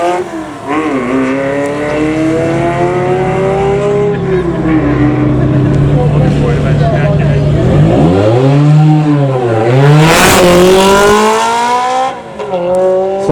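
Ferrari supercars in a cavalcade accelerate past one after another, loud and near, their engines rising through the gears with rapid upshifts and a sharp climbing sweep as a car passes, at a supercar event.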